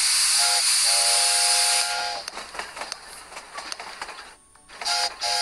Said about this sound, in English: And now we need to fuel the children's locomotive. Pump.